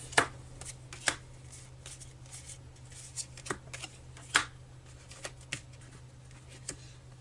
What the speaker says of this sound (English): Put these cards back in the tableau